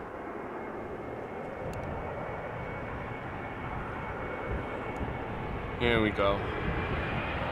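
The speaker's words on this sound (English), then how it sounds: "an Embraer 175 from KLM" A KLM Embraer 175 airliner at Amsterdam Schiphol Airport sends out a steady broadband engine roar that swells slightly. It sounds moderately distant and continuous, and a voice speaks briefly near the end.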